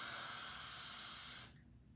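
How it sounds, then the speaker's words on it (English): Aerosol spray hissing onto a wig in one steady burst of about a second and a half, close and fairly loud, then cutting off into quiet. "We're gonna just spray a little."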